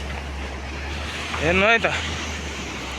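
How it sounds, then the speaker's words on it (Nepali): A river swollen by flood and landslide debris rushes with a steady, broad roar, while a person briefly speaks over it. "पुरै बाढी पहिरोले सबै ल्याएको छ ऊ यस्तरी खोला धरेर आएको"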